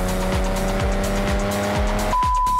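A car drifts through a turn in Japan, its engine droning loud and close while the tires squeal in a long continuous screech that steadies into a high held tone at the end.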